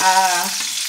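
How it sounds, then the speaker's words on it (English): A steak sizzles loudly in a pan as hot rosemary-infused oil is spooned over it for basting, a brief close crackle that fades slightly toward the end. "as we're basting it, we're hitting it with hot oil, so we're cooking it"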